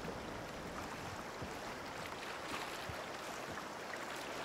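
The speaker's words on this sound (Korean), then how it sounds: "흐르는 물소리도 경쾌하다." Clear river water of the Teno River in Finland flows steadily over a visible bed on a summer day, a continuous broadband rushing and burbling with no voices, even in level throughout.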